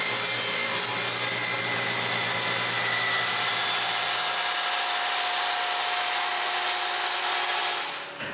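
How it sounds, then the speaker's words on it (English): Jigsaw cutting a sink opening in a wooden water cabinet top, a loud, steady, continuous buzzing saw whine with rasping wood noise, close up and alone, trailing off at the end. "I finish the job with the jigsaw."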